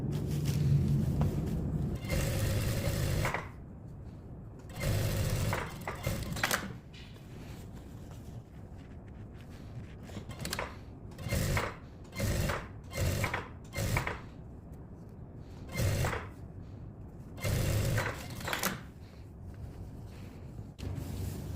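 A sewing machine stitching the back panel of a denim jacket runs in repeated short bursts of rapid mechanical whirring, separated by quiet pauses.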